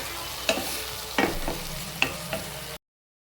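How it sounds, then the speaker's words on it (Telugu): Peas with chilli powder, salt and garam masala being fried in a pan, stirred in several distinct scraping strokes over a soft, steady sizzle, close up with no talking. "జస్ట్ ఒక 2 minutes ఫ్రై అవ్వనివ్వాలి"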